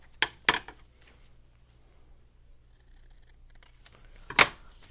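Paper being cut for a journal page: two sharp close snips near the start, a quiet pause, then one more crisp cut near the end.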